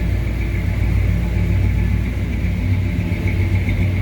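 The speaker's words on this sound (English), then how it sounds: "And it's got a little bit of a tough sounding exhaust on it." Steady low rumble from a 1988 Chevrolet Suburban V8 at idle through a tough-sounding exhaust, running evenly and close by without speech.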